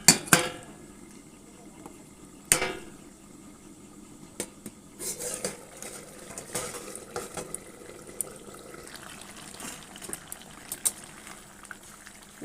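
A pot of fresh pond carp (charapona) and potato curry bubbling at a boil as its lid comes off, with a couple of sharp metallic clinks of the lid followed by a steady simmering hiss and scattered small knocks.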